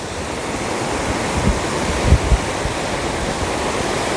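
A small waterfall rushes near a parked camper van while wind whips spray around, giving a loud, steady roar of water with gusty rumbles and a few low thumps against the microphone.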